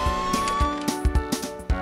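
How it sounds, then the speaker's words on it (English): A cartoon police car siren wails in a melodic, wavering tone over a bright musical backing, with repeated percussive hits punctuating it through the short stretch. "And the police car."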